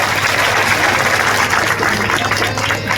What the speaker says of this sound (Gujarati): ખમા ગણી સાથે જોરદાર તાળીઓ સાથે આપની શુભેચ્છા